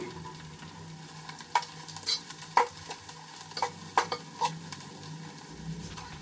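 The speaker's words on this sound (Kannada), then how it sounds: "ಚೆನ್ನಾಗಿ ಬೆಂದೈತೆ ಈರುಳ್ಳಿ ಎಲ್ಲ" Golden onions fry in oil for chicken biryani, a soft steady sizzle under repeated clinks and scrapes of a spoon stirring the pan, close by and without speech.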